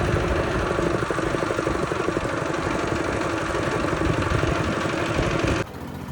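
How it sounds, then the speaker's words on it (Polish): A tractor engine runs at a steady idle-like chug, loud and close, with a constant rhythmic low throb, cutting down suddenly near the end; no talking. "Jedziemy ciągnikiem."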